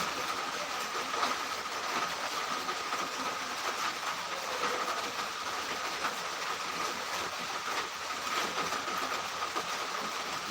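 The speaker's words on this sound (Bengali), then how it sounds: "বৃষ্টির মনে হয় শব্দ শুনতেছেন আপনারা বৃষ্টি হচ্ছে" Steady rain falls as an even, continuous hiss with no pauses. The hiss is moderately loud throughout, and no one talks.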